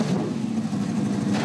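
A 2004 Supercars V8 race car at Eastern Creek fires up, its engine settling into a close, rough, throbbing idle with a slight rise at the end.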